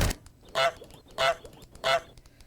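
A goose in the video game Phantom Forces gives three loud honks at a steady rhythm, roughly two-thirds of a second apart, over a quiet background.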